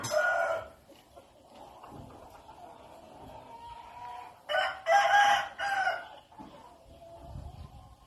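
A rooster crows at a chicken farm in Mae Sot, Tak province, Thailand, one loud full call rising clearly above quieter clucking and farmyard murmur.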